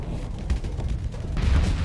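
Explosions in a space battle in the Starsector video game, a dense, continuous rumble of booms and blasts swelling louder toward the end, with no talk.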